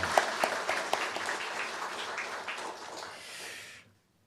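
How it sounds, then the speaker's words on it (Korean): A church congregation claps in encouragement for children and middle and high school students, sustained dense applause that starts strong, gradually thins and then stops abruptly. "우리 어린이들과 우리 중고등부 학생들에게 우리의 격려와 사랑의 박수 한번"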